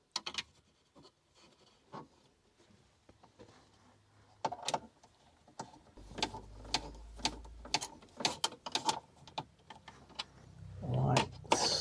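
Small screws are driven into a VW T5.1 head unit with a series of quiet ratcheting clicks and faint scraping, close up and alone.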